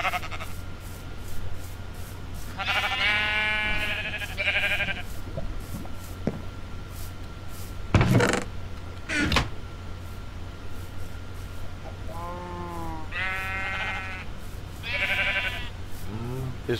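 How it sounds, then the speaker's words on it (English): Sheep in a sandbox video game bleat in several distinct bursts, some clustered and others spaced apart, over a steady low background hum, with brief sharp game sounds between them and a voice speaking at times. "sheep."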